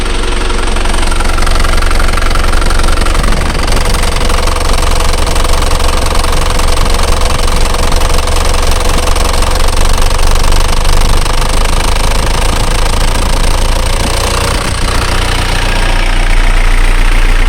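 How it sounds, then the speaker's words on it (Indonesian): An Isuzu Panther diesel engine with its idle speed being raised, a loud, close, continuous knocking clatter that holds steady throughout. "kemudian kita coba naikkan RPM-nya mbah"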